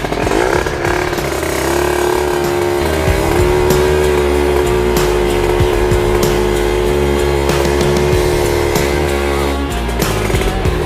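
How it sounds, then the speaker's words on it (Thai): A motorcycle tire burnout with the front brake held, the engine revving hard and steadily for the whole stretch, loud and close with a continuous roaring drone and no talk. "เบิร์นยางมีเบรกหน้าไว้"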